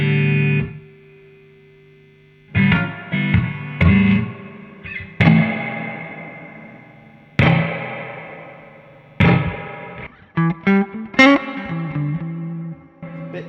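Electric guitar chords and single notes strummed through a blues pedal rig with heavy reverb, each hit ringing out and decaying slowly into a wash of echo, played alone.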